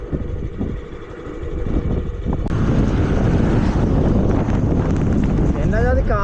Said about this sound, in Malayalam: മൊട്ടക്കുന്നായതുകൊണ്ട് ഭയങ്കര കാറ്റാ